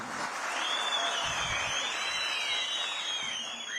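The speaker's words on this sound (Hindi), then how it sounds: "ताली आधे लोगों ने बजाई, आधे लोगों ने नहीं बजाई" An audience at an outdoor mela ground event in Banjar, Himachal Pradesh, claps in a steady, moderately loud patter of many hands, with a faint tonal whistle-like sound drifting above it.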